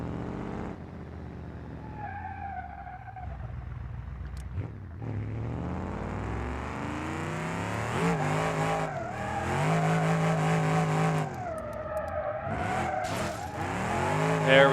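Car drifting in the BeamNG.drive video game, a Drift Marshal project build, with a revving engine, rising and falling engine tones and long screeching tire squeals, loud and close, no talk.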